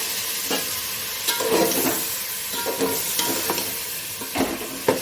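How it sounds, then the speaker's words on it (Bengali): Spice paste with green chili paste and a splash of water frying in a pan for vegetarian khichuri, with a steady sizzle broken by repeated scraping stirs, close and fairly loud. "মশলাটা কষিয়ে নেব।"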